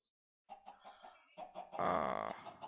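Chickens cluck in the Minecraft video game, several short, close, moderately loud clucks coming in a quick irregular series, followed by a brief louder burst of game noise.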